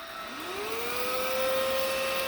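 A Homeika cordless vacuum cleaner running on its lowest power setting over a rug spins up with a rising whine, then settles into a steady, close, loud hum and whir.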